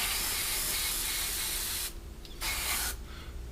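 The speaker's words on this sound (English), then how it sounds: "Because we're spraying at quite a high air pressure, you don't want to be hanging around in too much areas at once" An airbrush sprays acrylic paint at high air pressure onto a 1/48 Hasegawa Harrier GR7 model kit, a loud steady hiss that cuts out briefly twice near the end before resuming.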